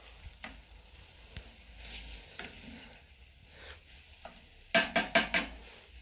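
Pie filling is stirred in a pan on a Kamado Joe barbecue, with soft intermittent scraping and a low sizzle, then a quick run of four sharp metallic clinks near the end.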